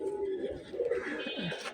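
Pigeons, including a Rabbani pigeon, coo close by in a couple of low, wavering rolls, with a brief higher call rising toward the end.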